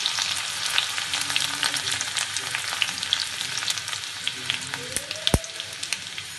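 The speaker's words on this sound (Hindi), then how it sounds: "लहसुन को सिर्फ हम 10 से 12 सेकंड के लिए ही भूनेंगे" Steady crackling sizzle of garlic frying in hot oil with cumin, with scattered pops and a sharp clink near the end; no voices.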